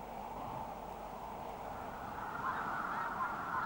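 A flock of lesser snow geese on the Arctic tundra in spring, honking in a soft, overlapping chorus at a moderate distance, growing a little louder toward the end over a low background hiss.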